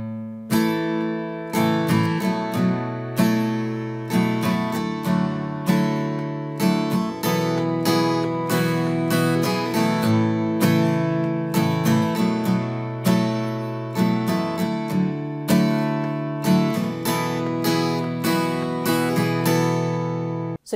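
Acoustic guitar strummed slowly in a strumming pattern, steady down-up strokes ringing full chords for about twenty seconds, close and clear with no talking over it.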